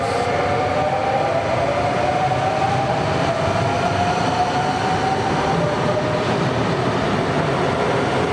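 A double-decker S train pulls into Milan's Porta Garibaldi station with a loud, steady rolling roar and a rising wheel whine, close by and continuous throughout with no talking.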